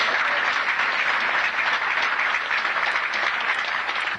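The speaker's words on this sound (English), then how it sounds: "I think that we owe them all a true world-class round of applause." A large audience applauds steadily and loudly at a Corvette homecoming gathering, a dense wash of clapping that holds at full strength throughout with no break.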